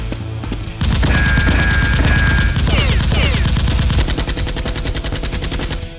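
Rapid bursts of toy-gun fire from a Nerf war game staged as a base siege, dense overlapping cracks and chatter, loud and close, continuing steadily with a few sweeping tones layered in.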